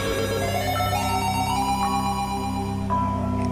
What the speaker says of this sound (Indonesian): telepon di meja resepsionis berbunyi